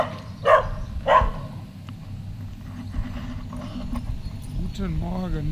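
A dog at a pasta party before an early-morning running event gives two quick, close barks, followed by a steady background murmur with voices talking.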